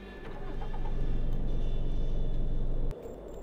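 A car engine in the video game Cataclysm DDA drives steadily, a loud low rumble that rises at first and holds even before cutting off suddenly near the end.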